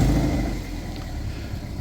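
Toyota MR2 engine running with a blowing exhaust, a steady close, rough low rumble that holds at a constant level without clear revving.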